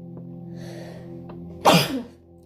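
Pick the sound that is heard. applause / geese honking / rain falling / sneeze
sneeze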